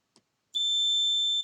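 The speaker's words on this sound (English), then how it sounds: "this is a buzzer being turned on by a reed relay connection" A buzzer switched on through a reed relay gives a single loud, steady electronic tone that starts abruptly after a faint click and holds without wavering for about a second.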